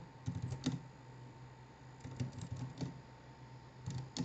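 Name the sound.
typing terminal commands on a computer keyboard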